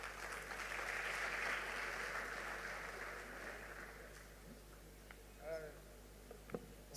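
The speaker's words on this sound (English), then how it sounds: "Another round of applause to thank the doctor." Audience applause after a doctor's talk at an international medical symposium in Rwanda: a soft, distant wash of clapping that swells early, then fades over several seconds into quiet room noise with a few faint knocks.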